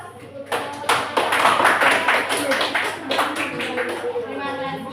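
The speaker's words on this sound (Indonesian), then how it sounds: "Silakan kembali kita beri aplaus untuk" Applause from a classroom audience in an Indonesian school class, a dense, sustained burst of many hands clapping close by that swells after the first second and carries on steadily to the end, with faint voices mixed underneath.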